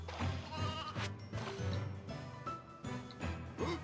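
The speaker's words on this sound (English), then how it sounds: "I think I know where the sheep are" Sheep bleat repeatedly in the video game Euro Demo, a run of short, close, wavering calls that come in quick succession.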